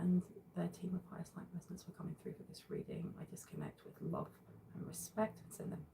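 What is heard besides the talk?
No distinct noise like a dog, phone or traffic.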